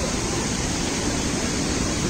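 Small waterfalls pour beside a steep hairpin mountain road in the Kolli Hills, making a steady, loud, unbroken wash of rushing water with no talk.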